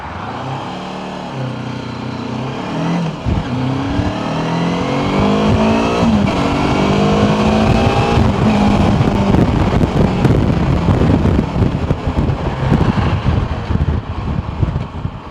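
A Moto Morini motorcycle being ridden and accelerating, its engine note climbing steadily through the gears with loud, close wind rush across a continuous run.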